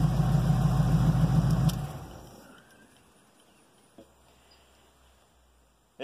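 A truck engine with an Edelbrock carburetor idles after a cold start, a steady low hum for under two seconds before it cuts off, leaving a near-silent stretch with a faint click.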